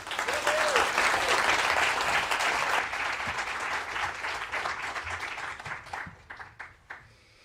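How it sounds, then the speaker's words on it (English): Audience applause fills a large award-ceremony hall at an education innovation summit, loud and dense at first, then thinning into scattered claps that fade out near the end. "Round of applause."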